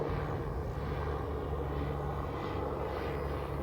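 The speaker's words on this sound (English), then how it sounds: "I think it's a helicopter." Helicopter flying overhead, heard as a steady, fairly faint engine and rotor drone with broad rumbling noise that holds throughout.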